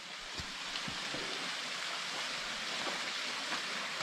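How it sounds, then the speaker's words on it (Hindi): Pakdajhar waterfall, running with low summer flow, gives a steady broadband rush of falling water throughout, with faint scattered thumps underneath. "सो आप लोग देख सकते हैं ये वाटरफॉल है"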